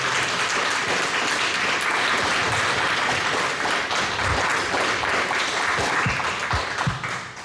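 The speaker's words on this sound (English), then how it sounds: "let's give all our panelists another round of applause" An audience applauding panelists at a community discussion on raising youth in the Tenderloin, loud, sustained clapping that fills the room and thins into a few scattered claps near the end.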